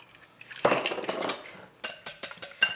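A whisk beats farm fresh eggs in a bowl, with quick clinking taps and scrapes against the bowl, close and clear, coming in short bursts and pausing briefly midway, no voices.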